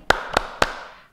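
Three sharp, evenly spaced hand claps ring out close and loud, each with a short ringing tail, as a children's rhythmic clapping game called Tepuk pagi hari is demonstrated at a Sunday school service.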